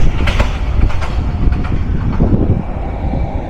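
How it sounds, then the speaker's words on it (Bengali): The Silk City Express rolls across a railway bridge, a loud, steady rumble and rattle of wagons with rhythmic clicks of wheels on rails, heavy wind buffeting the microphone close by. "সিল সিটি এক্সপ্রেস কিন্তু Ghatina railway bridge through pass করে গেল"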